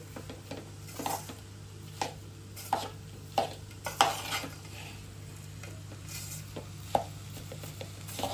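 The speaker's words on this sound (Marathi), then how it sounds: "सो आता हे मिक्स करतोय आपण असं सारणला" Puranpoli sweet filling is stirred and mixed in a pan, with repeated spoon knocks and scrapes against the metal at an uneven rhythm over a faint background sizzle and low hum.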